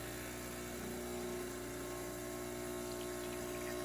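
Pump of a Crossland espresso machine pulling a single shot after a water leak repair, a steady droning hum with a faint liquid trickle, close and continuous.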